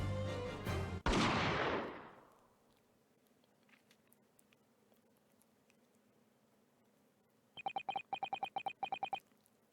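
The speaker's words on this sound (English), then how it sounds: "Jigoku shot Asogi from the shadows." A gunshot in The Great Ace Attorney video game, a loud burst that rings out and fades, then a stretch of near silence before a quick run of clipped, rhythmic game blips.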